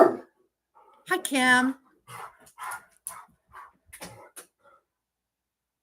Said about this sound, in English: He's out the window barking at something.